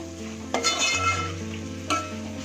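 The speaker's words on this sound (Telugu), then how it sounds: "సో అప్పుడు మనం తరిగి పెట్టుకున్న ఒక 4 ఆనియన్స్, పచ్చిమిర్చి, అలాగే కరివేపాకు యాడ్ చేసుకుందాం." Chopped onions, green chillies and curry leaves fry with dry prawns for a drumstick and egg curry, a low steady sizzle under a faint tonal hum, punctuated by two brief clattering stirs.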